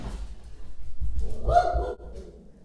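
A pet dog barks indoors, a short cluster of low, muffled barks close by, with faint sounds of movement around them.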